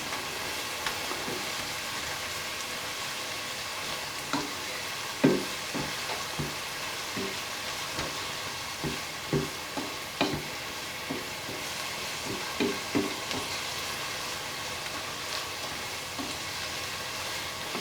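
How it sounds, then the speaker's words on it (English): Garlic sautéing in a pan for a bean and sausage soup, with a soft, continuous sizzle broken by scattered light clicks and scrapes of stirring, quiet and steady with no voices. "that garlic's been sauteing for about 1 minute now"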